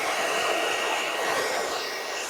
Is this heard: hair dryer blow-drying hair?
yes